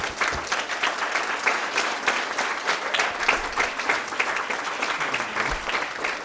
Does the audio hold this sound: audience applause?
yes